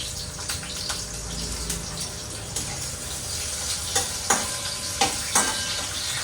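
Onion going into a hot pan with chopped vegetables, frying with a steady sizzle and a few sharp utensil scrapes and clinks toward the end, close by with no talk.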